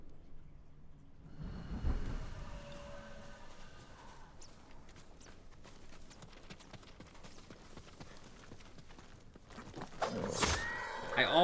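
Hooves clip-clop from a horse in the video game Ghost of Tsushima, steady and continuous over a noisy game backdrop, with a short whinny-like cry early on and louder rustling near the end.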